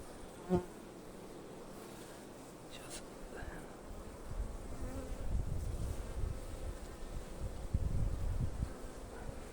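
Honeybees buzz steadily around a control hive standing on scales, a ten-frame hive body topped with a honey super, outdoors with light wind; a single sharp knock opens the clip, and the droning swells and stays close throughout.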